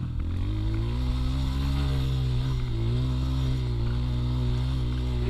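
A 125 cc motorcycle engine drones steadily in second gear while climbing a trail, pitch dipping and rising slightly as it labors, continuous and fairly close with no talking.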